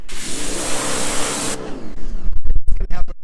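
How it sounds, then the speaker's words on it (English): A pressure washer runs hard in a shop during cleanup, giving a loud, steady broadband hiss for about a second and a half before cutting off into clattering handling and spraying noises. "Pressure washer."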